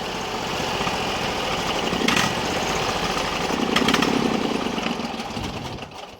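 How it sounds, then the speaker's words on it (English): A Briggs and Stratton V-twin 20 hp engine on a Sears loader runs on choke, a loud, steady, rough close-up drone with slight surges in speed. "Give her some choke. Keep her running with choke."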